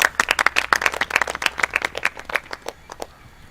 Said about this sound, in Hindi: ताली होनी चाहिए इनके लिए